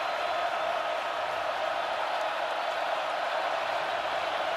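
Sellout football stadium crowd of more than 81,000 at a Notre Dame versus Clemson game, a dense, steady roar of noise with no breaks.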